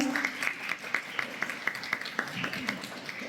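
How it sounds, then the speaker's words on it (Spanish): A small audience at a talk on eating disorders claps after the host's introduction, sounding as sparse, fairly quiet individual claps spaced in an uneven rhythm with little else behind them. "Un aplauso, por favor"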